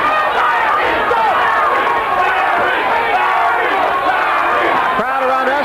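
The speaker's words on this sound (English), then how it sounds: "Crowd around us chanting, Larry, Larry" A packed arena crowd at the 1985 Larry Holmes versus Michael Spinks heavyweight title fight roars and chants continuously, a loud, dense wall of voices with rhythmic swells.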